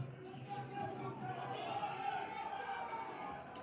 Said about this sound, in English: You can hear the crowd.